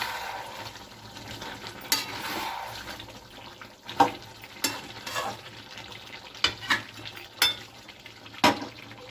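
Chicken and pumpkin cooking in a covered pot with a little water: a steady low simmering sizzle runs under intermittent stirring scrapes and several sharp clinks of a utensil against the pot, close by, with no voices.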